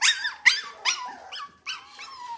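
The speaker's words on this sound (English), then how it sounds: "there's a puppy out here now" Close, loud puppy barks come in quick succession with high whimpering yelps between them, about five bursts over a couple of seconds, with no talking.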